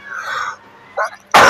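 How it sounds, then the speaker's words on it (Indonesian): A woman gives a single short, sharp cough at close range, coming right after a few soft vocal sounds. "Batuk Bu."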